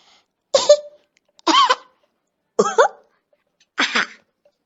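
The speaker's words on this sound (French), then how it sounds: "donc il est interdit de tousser dans cette classe" Four separate coughs ring out in a classroom, each a short harsh burst with even pauses between them, near and clear against otherwise quiet surroundings.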